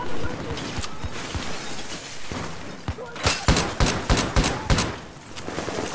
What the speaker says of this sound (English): It was a full auto gun being shot at me.